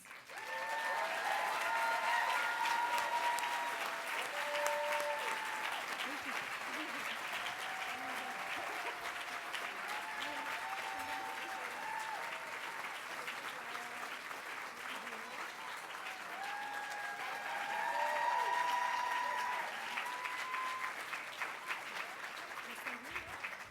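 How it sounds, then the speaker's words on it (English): An audience at an awards dinner honoring Dr. Martin Luther King Jr. breaks into long, sustained applause that fills the room, swelling again near the end, with a few scattered cheers. "Please give a huge round of applause for Luke Alis."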